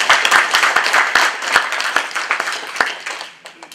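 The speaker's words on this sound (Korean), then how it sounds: "우리 감사의 박수를 하나님께 올려드리도록 하겠습니다" A church congregation claps in thanks, with individual hand claps standing out sharply within a short, close burst of applause that tapers off.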